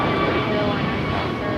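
Jet aircraft engines roar in a steady, dense rumble at LAX airport, continuous and fairly loud throughout the short stretch.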